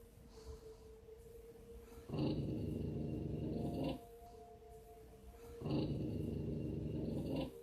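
Deep, rumbling growls from an unseen creature in a horror story, two sustained bursts of about two seconds each, loud and close, separated by a quieter droning background with no talking.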